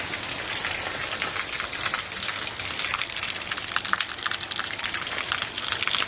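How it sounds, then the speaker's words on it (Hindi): Heavy rain lashing a village, a loud continuous gushing roar of water with sharp spattering drops hitting nearby surfaces, no voices heard. "हमारे गांव में आज सुबह से हो रही है बहुत तेज बारिश।"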